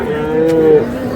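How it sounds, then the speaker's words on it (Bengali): A bull calf at a cattle market moos once, a drawn-out, fairly loud bellow near the middle, set against a steady murmur of crowd noise from the market. "ষাঁড় বাচ্চা"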